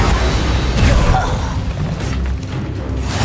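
The Confringo fire spell in Hogwarts Legacy gameplay: a loud, rumbling fiery blast in the first second that dies away into a fading roar.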